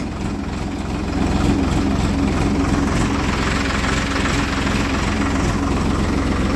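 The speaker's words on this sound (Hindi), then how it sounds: "अरे ये तो इतना वफादार ट्रैक्टर है" Tractor engine running steadily, a loud continuous low diesel rumble with a rhythmic chug, holding even and close for the whole stretch.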